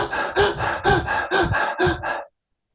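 Rapid, rhythmic mouth breathing as a breathing exercise, about five quick forceful breath cycles in a steady panting rhythm, close and loud, ending abruptly into silence.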